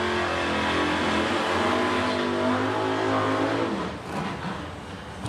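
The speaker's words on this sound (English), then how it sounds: "So I hear race cars under the bridge." Drag race cars launching down the strip at a bracket race in Edmonton, a loud sustained roar of engines accelerating hard that fades away as the cars pull off into the distance.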